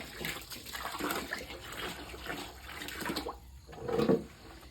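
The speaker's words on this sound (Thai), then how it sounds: "อันนี้เราก็เติมน้ำให้เต็มนะคะ" Water running into a 20-litre container for mixing A and B nutrient solution, a steady rushing pour that swells and splashes louder near the end, with no talk.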